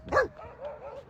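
A dog gives one loud close bark, followed by quieter whimpering or yelping sounds, with faint voices present.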